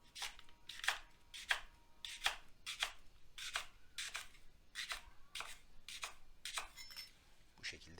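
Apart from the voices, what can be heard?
chopping leeks with a knife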